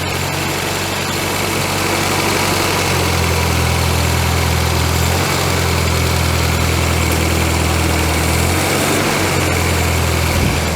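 A VW Scirocco MK2 engine idles steadily at around 1200 RPM, loud and close, with a smooth continuous drone and faint dips in tone.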